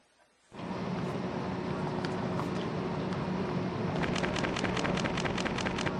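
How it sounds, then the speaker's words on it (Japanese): Heavy simulated rain in the Densha de GO! Professional train-driving game pours down as a dense, loud, continuous hiss that starts abruptly, with faint rhythmic ticks later on. "もう雨がもう本当にきついね"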